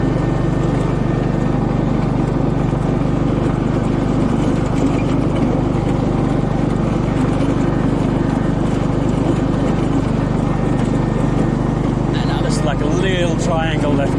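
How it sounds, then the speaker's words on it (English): Ride-on lawnmower engine running at a constant, loud drone while mowing grass, steady throughout with brief speech near the end. "I'm trying to drive a lawnmower at the same time"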